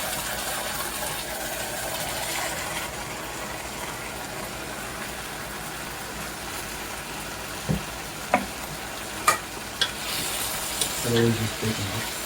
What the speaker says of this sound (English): We're gonna put all the onions in here.